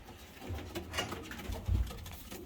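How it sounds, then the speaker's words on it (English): Pigeons in a loft make soft cooing and shuffling sounds, with faint wing patter and low rustling close by in a quiet room. "we've got a lot of birds in here, and a lot of stock birds on the other side as well"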